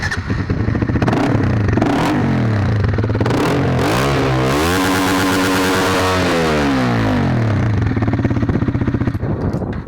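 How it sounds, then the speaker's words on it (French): A 2007 Honda CBR 125 R with its exhaust baffle removed revs up and down close by, the raspy engine note climbing and falling in two sweeping bursts over a steady idle, with no talking. "Et quant au pot, je vais d'abord vous faire écouter et ensuite on va en parler."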